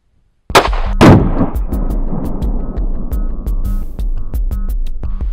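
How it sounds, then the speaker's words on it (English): A single 9mm pistol shot firing a G2 round outdoors, a sharp loud crack followed by a long ringing decay and faint clicks. "I'm going to load the G2 round 1 shot into my 9mm, and we're going to fire the 1 shot"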